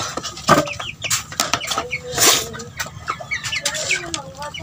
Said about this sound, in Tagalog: ito yung muna itong mga sisiw mga kabuli